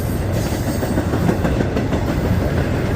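An intermodal freight train rolls past close by, a loud, steady rumble of wagons with rhythmic wheel clatter and faint squeal throughout, with no voices.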